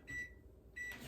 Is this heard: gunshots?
no